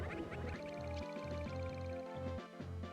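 Bird mother calling to her hatchling in Metroid Fusion, rendered as a run of short, bright quacking chirps over a steady, busy game music bed.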